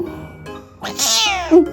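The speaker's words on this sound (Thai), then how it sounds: "แมว" A cat gives a single loud, close meow that rises and falls, preceded by softer chirps and followed by a short squeak, with no talking.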